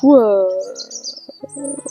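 A pet bird chirping close by indoors: one clear rising-falling whistle followed by a quick run of short, sharp chirps, fairly loud and alone.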